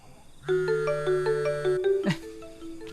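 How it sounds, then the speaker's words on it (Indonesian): A mobile phone rings indoors, its electronic melody repeating in a clear, steady pattern of tones, close and loud with no voices over it. "HP siapa tuh bunyi?"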